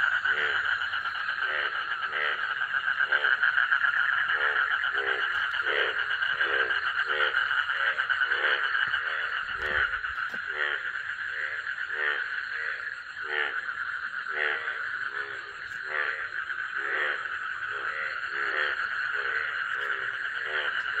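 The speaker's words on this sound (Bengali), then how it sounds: "ব্যাঙের ডাক ক্রমাগত বাড়ছে" A dense chorus of frogs croaks at night in a village pond, the rapid rhythmic calls repeating continuously and steadily at moderate distance with no talking.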